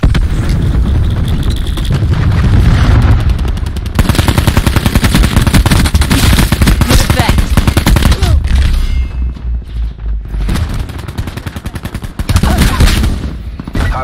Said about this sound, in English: Tactical reinforcement available. Cluster grenade.